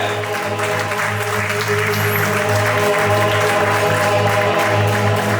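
Guests at a civil wedding reception clap loudly for the DJs, a continuous burst of applause layered over music playing steadily underneath.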